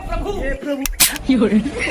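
A gunshot sound effect from a Sholay comedy parody, a sharp broadband crack near the middle followed by a second bright burst, set amid dialogue and background music.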